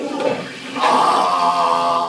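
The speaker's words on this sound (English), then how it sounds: "Flush it." A toilet flushes up close: a loud, rushing surge of water that swells after a brief gurgle and keeps roaring steadily to the end.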